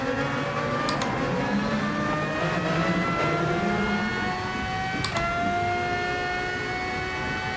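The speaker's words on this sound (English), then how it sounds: "It's my first time driving this car." Race car engine on a circuit, revving steadily while driving. A loud, continuous whine climbs in pitch and drops sharply at gear shifts, staying close throughout.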